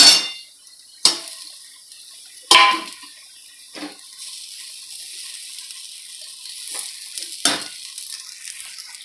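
Kardai (safflower) greens hit a hot pan with sharp bursts of sizzling, several loud hisses that quickly fade into a quieter, steady frying crackle, with occasional stirring scrapes.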